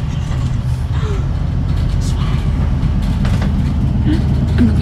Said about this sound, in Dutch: In de trein.